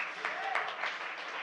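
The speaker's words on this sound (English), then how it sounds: "We can clap for that." Audience clapping at a speech about Uganda's independence from Britain, a brief burst of scattered hands heard close and under ongoing room noise.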